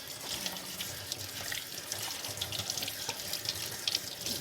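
Tap water runs steadily into a sink to rinse a rotary cheese grater after scrubbing, giving a continuous hissing splash with small irregular spatters, fairly close and without speech.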